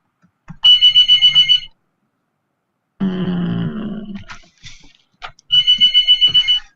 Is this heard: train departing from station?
no